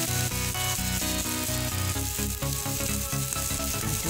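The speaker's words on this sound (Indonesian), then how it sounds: "Aduk sampai kacangnya warnanya berubah." Long beans being stir-fried give off a loud, steady sizzle in the pan, with a strong background hum running throughout and no one talking.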